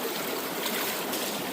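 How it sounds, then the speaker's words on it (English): Water with a rock in it is dumped into a gold-panning sluice, producing a steady, hissing rush and trickle that runs close and unbroken for the whole moment. "Dump that little bit of water with the rock that was in there."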